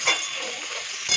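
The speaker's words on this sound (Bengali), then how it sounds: "তো আমার এই তরকারি কষানো হচ্ছে।" Fish curry with sour yogurt sautés in a hot pan, putting out a continuous close, bright sizzle with faint stirring underneath.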